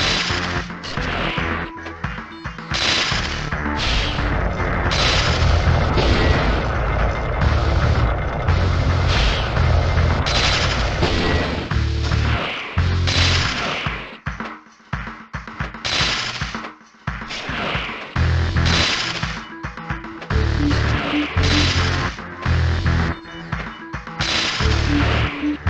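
Rapid laser fire from the PS1 Spider-Man game in its Underwater Trench level: loud, dense volleys of sharp zapping blasts repeating almost continuously, with a couple of brief pauses partway through and no voices.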